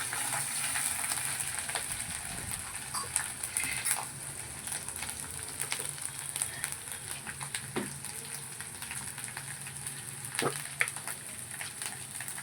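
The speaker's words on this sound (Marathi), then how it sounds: "गॅस असं मिडियम फ्लेमवर छान असं भाजून घ्यायचं" Chickpea-greens paste roasting in a pan over a medium gas flame, giving a steady soft sizzle and crackle with occasional sharper pops and light stirring scrapes, fairly quiet and unbroken throughout.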